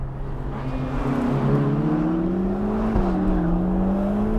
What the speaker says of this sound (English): And the engine is so strong. This is the Roma engine.